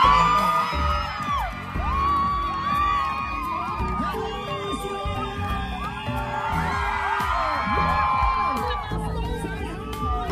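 Fan event audience cheering, whooping and yelling loudly with scattered clapping, a dense excited crowd roar that swells and dips, with voices shouting over it throughout.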